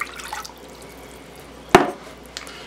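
Water poured from a cup into a crock pot for cube steaks lands in one short splash near the middle, followed by a faint drip, in an otherwise quiet kitchen.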